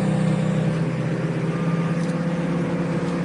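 Engine brake on a Ford F-4000 truck descending a hill: a steady, low droning engine hum with a constant tone, loud and unbroken throughout.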